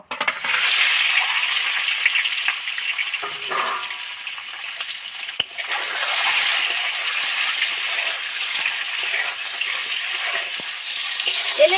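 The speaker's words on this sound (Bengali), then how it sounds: "এবার ডিমগুলো তেলের মধ্যে উঠিয়ে দেব" Eggs coated with turmeric frying in hot oil for an egg curry with cauliflower, giving off a steady, close hiss and crackle. The sizzle continues throughout with no talking.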